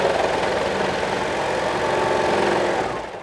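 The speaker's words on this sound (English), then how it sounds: "I find that gathering with the serger gives me the most even gathers out of all the styles of gathering that I've done before" A serger sewing machine runs steadily while it gathers fabric, making a dense, loud, continuous motor hum with a fast rhythmic churn that fades slightly at the end.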